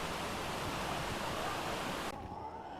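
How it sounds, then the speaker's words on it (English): A loud waterfall in a video game gives a dense, continuous rushing roar that suddenly drops to a softer, duller wash near the end, with no voices over it. "That waterfall was so loud over there."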